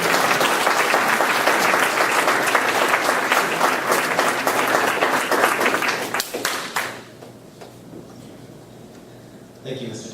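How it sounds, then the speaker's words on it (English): Audience applause for the parents at an Eagle Scout Court of Honor ceremony: dense, sustained clapping from a sizable crowd that stays loud for about seven seconds, then quickly dies away to near silence. "You deserve a very big round of applause."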